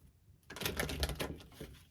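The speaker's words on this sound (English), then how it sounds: "One more shuffle." A deck of tarot cards is riffle-shuffled once, a quick burst of crisp, rapid clicking that lasts about a second and a half, close and fairly quiet.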